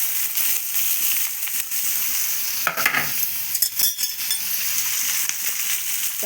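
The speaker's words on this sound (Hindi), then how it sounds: "काटिकी रखिथिबा 2टा पियाज मु ए तेल रे पकईदेली" Two chopped onions fry in hot oil after a spoon of tempering spices, a steady close sizzle broken by several scraping stirs of a spoon against the pan, with no voices.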